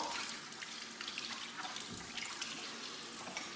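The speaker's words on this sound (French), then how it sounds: "Ensuite, je rince de nouveau abondamment." Paint brushes rinsed under running tap water, a continuous splashing gush from a faucet with small irregular spatters as the bristles are worked, close but fairly quiet, with no talking.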